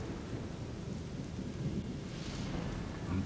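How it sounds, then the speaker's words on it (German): Rain and rumbling thunder in the video game Odyssee, a dense steady downpour with a deep low roll of thunder swelling underneath, continuous and fairly loud with no voices. "Okay, da regnet es."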